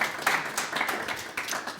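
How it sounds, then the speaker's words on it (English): Brief round of studio audience applause for a surgeon on a live health show, moderately loud scattered clapping over a short stretch. "How about a quick round of applause for our fantastic Dr."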